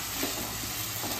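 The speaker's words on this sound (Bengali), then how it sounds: "ওই জন্য আলু ভেজে নিতে হচ্ছে" Potatoes frying in a pan while being stirred for a potato dish, a steady close sizzle with soft scraping, no voices.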